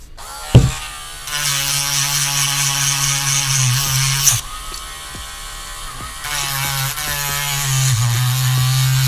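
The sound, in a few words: sanding down a Blythe doll mechanism part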